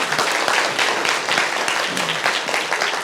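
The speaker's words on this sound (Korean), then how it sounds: "박수로 맞으시기 바랍니다" A seated audience at a book concert claps steadily and densely in warm applause welcoming Seoul National University psychology professor Choi In-cheol to the stage for a mini lecture, sustained and fairly loud throughout.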